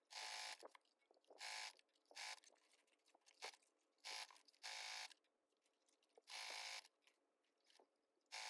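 A sewing machine stitching fabric for a clutch purse, running in short bursts of whirring motor hum separated by quiet pauses, close and fairly steady during each run.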